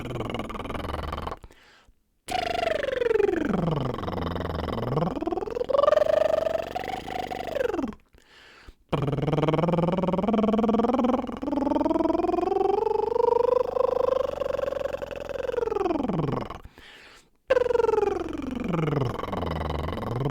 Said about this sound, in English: Next, we're going to go over to lip trills.